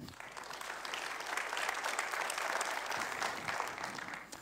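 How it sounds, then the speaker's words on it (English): Sustained audience applause for keynote panelists at an IBC2017 conference panel, a dense wash of clapping that holds steady from start to end with no voices over it. "Please give them a round of applause."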